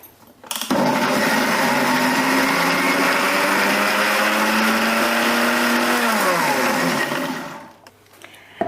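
A mixer grinder blending spinach runs in one continuous high whine for about six seconds, then spins down and stops, loud and close.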